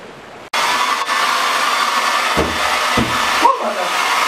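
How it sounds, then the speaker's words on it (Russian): A Brazilian hair dryer switches on abruptly and runs with a loud, steady whooshing hiss. A few brief knocks and thumps break through the blowing, and no one talks. "Прости, я воспользовался твоим бразильским фен."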